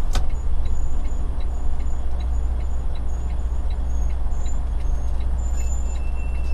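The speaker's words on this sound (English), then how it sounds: "Woo, wet brakes." A truck's wet brakes give thin, high, intermittent squeals over the steady low rumble of the engine and road noise inside the cab, with a single sharp click at the start.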